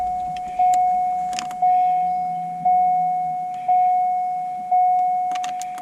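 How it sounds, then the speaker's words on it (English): Ignition switched on in a 1997-2004 Corvette C5 sets off a steady warning chime that pulses about once a second, with brief jingles of keys near the start and end. "So I'm going to turn the ignition on."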